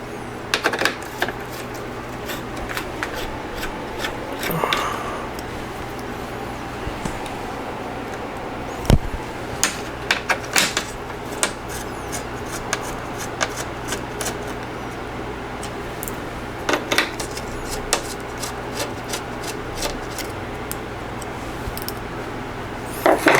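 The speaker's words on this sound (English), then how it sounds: "we take our nut driver and we take off the four nuts that are in each corner." A nut driver removing corner nuts from the front panel of a Marantz 2265B stereo receiver, with repeated small metallic clicks, taps and scrapes scattered over a steady background hum, close and fairly crisp.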